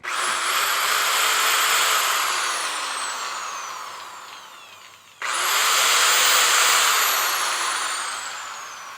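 Power tool grinding the inside of golf iron ferrules, a loud steady whine in two long bursts split by a brief pause, alone with no talk.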